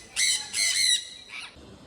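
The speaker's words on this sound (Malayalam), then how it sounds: "ഇത് അവിടെയുള്ള ചെറിയൊരു കിളിക്കൂടാണ്. 1-2 കിളിക്കൂട് ഇങ്ങനെയുണ്ട്. നല്ല രസമാണ് ഇവരുടെ സംസാരവും സൗണ്ടും ഒക്കെ കേൾക്കാൻ വേണ്ടിയിട്ട്." Small caged birds in an aviary in Fort Kochi squawk in two loud, harsh bursts followed by a softer call, close by and with no voices.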